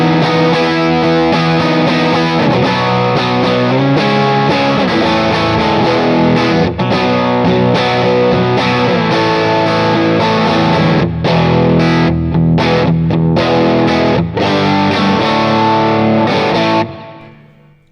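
Electric guitar played through a Kemper profiler using a Vox AC30 amp profile, loud driven chords and melodic runs with chorus-like shimmer, full and sustained, briefly choppy near the end before stopping abruptly.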